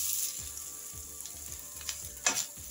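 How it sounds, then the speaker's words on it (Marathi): Freshly grated coconut sizzles in ghee in a pan, a soft close crackle with faint scraping of stirring throughout and no talking. "तुपावर चांगला परतवून घेऊ."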